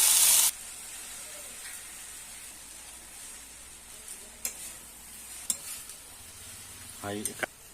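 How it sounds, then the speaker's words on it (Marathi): Wild leafy greens dropped onto garlic and chili already frying in oil, a loud burst of sizzle at the start fading to a low steady hiss, with a few scattered clicks and stirring knocks later. "लसूण आणि तिखट परतून झाल्यानंतर अशी भाजी टाकायची आहे"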